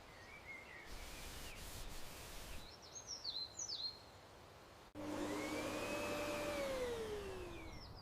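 A steady vacuum cleaner drone fills the room as it runs over carpet, preceded by softer rubbing and brief high chirps, with the motor whine rising and sweeping in pitch.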